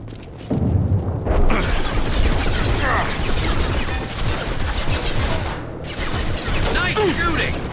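Sustained gunfire in a Mass Effect 2 combat encounter, bursts and booming shots layered densely over several seconds, loud and close, with brief lulls and game voices speaking amid the shooting.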